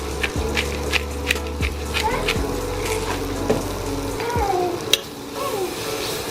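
Onions seasoned with salt and ground black pepper being stirred in a frying pan, a steady close sizzle with scraping stir strokes throughout.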